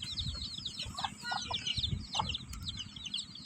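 A hen and her newly hatched chicks cluck and cheep at close range, with high chirps repeating throughout and a few lower clucks mixed in.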